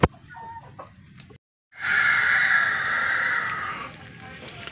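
A bullstag rooster about a year old gives one long, loud crow close by, preceded by a few softer clucks and a short pause.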